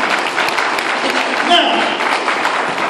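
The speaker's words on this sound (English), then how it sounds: "Let's give you a big round of applause." A crowd clapping steadily and loudly throughout, dense applause filling the room.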